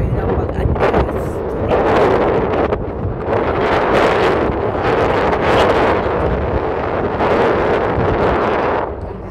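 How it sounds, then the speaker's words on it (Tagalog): Strong beach wind buffets the microphone in a loud, continuous roar, surging in gusts through the whole stretch with no talking. "Ang lakas lang ng hangin, mga kamimay."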